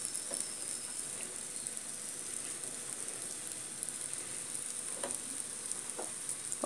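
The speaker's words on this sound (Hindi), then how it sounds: "हमें दोनों तरफ से सेकना है इसको, और ये साइड से मैं इस तरीके से घी डाल देती हूँ।" Wheat flour cheela fries in ghee on a pan over low gas, giving a steady, close sizzle with faint crackles throughout and no talk.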